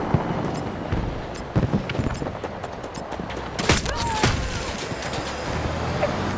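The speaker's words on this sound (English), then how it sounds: "Canister shot. This is a shotgun." Shotgun firing canister shot in a video game, heard as a dense burst of loud gunfire reports with sharp booming transients amid ongoing battle noise.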